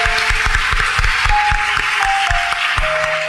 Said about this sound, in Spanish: Reiteremos un fuerte aplauso para estas personalidades e instituciones.